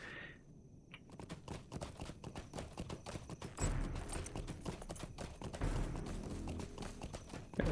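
Elf ambassador's horse in The Lord of the Rings Online trotting, a steady run of close clip-clop hoofbeats that continues throughout, with no voices.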